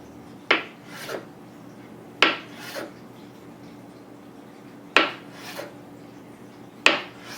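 A knife cuts through a block of tofu on a cutting board, four distinct strokes spaced a couple of seconds apart, each a quick scrape ending with a soft tap, close and fairly quiet.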